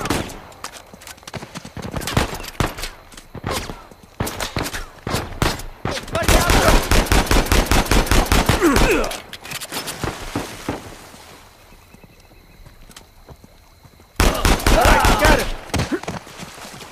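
Loud gunfire in Uncharted 4: A Thief's End, with quick bursts of rapid shots in clusters broken by short pauses, then heavier sustained volleys near the middle and end.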